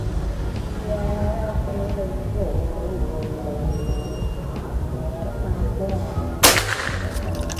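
A single sharp PCP air rifle shot cracks out near the end, loud and abrupt, over a low rumbling outdoor background with faint voices.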